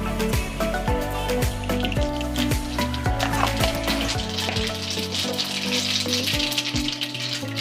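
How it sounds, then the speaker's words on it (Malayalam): Mustard seeds splutter and crackle steadily in hot oil in a pan, a dense close sizzle with rapid pops, heard alone while cooking a Kerala sadya kootu curry. "ഇനി നമുക്ക് കുറച്ച് കടുക് ചേർത്ത് കൊടുക്കാം"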